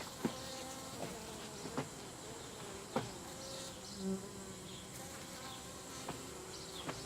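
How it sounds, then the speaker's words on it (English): Honeybees buzz steadily around a hive, a faint continuous drone with a few brief louder passes of individual bees, with no voices. "Bees are active now."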